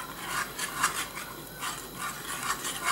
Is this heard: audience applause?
no